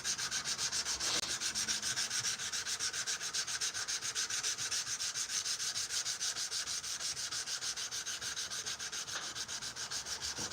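Sandpaper rubbed by hand along a wrought iron knife blade at a final grit, a fast, even back-and-forth scraping that repeats without pause, close and fairly loud, with no talking.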